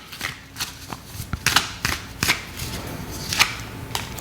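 Tarot cards being shuffled in quick bursts of riffling and slapping, close to the microphone and irregular in rhythm, with soft handling sounds between the bursts and no speech.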